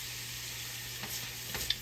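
Mushrooms and bacon frying in bacon grease in a pan give off a steady close sizzle, with a couple of faint stirring scrapes near the end.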